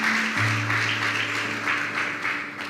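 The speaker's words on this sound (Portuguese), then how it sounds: "Vamos dar uma salva de palmas ao Senhor." A church congregation at Bola de Neve São João claps steadily, a continuous ripple of applause with a held low keyboard tone sounding underneath.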